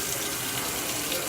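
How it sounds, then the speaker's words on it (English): Hot water pours steadily from a sink faucet at a dishwashing station, a close, even rushing hiss that runs unbroken throughout. "turn your nozzle over the soap dispenser and turn on the hot water"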